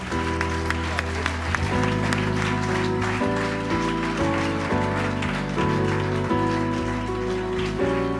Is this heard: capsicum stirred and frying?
no